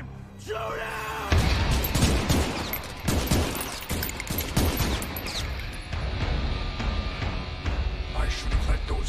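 Gunfire from an action movie scene, a loud fusillade of scattered shots and impacts mixed with shouting voices and a dense, chaotic soundtrack.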